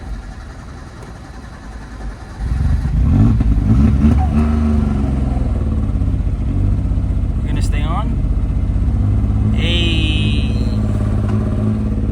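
A Suzuki Mighty Boy's small engine cranks briefly, then catches and settles into a steady running drone with some clatter, close by, while a person talks over it.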